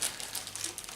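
Soft, close crinkling of a plastic bag being handled, a steady faint rustle with small crackly spikes throughout, no voices.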